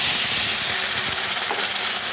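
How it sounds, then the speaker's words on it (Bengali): Water is poured into a hot pan of frying spices, cumin powder and green chillies, for a khichuri, giving a loud, steady, close steamy hiss with no talk. "এখন এখানে জল ঢেলে দেবো।"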